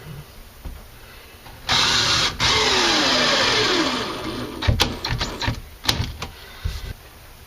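A power drill or screw gun drives screws into drywall to fix screw pops, whirring loudly in one sustained run of a couple of seconds, then trailing off into short bursts and clicks.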